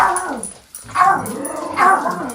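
A dog whimpers and yips up close in three rising, whiny bursts, each breaking off with a short pause before the next, with no talking over it.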